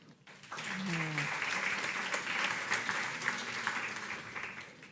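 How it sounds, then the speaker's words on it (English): An audience applauds panel speakers at a conference forum, sustained steady clapping from a large crowd that begins abruptly after a voice and continues evenly to the end. "Please give all three of them one more applause."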